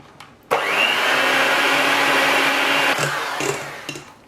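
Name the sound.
electric mixer mixing sour cream with powdered sugar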